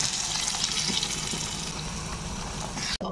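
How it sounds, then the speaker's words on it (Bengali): Boiled mung dal pours into a pan that holds fish heads, making a close, steady wet gushing and splashing. The pour runs for about three seconds and stops abruptly, with no voices. "এবারে সেদ্ধ করা ডালটা দিয়ে দিলাম"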